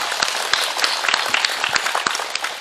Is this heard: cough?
no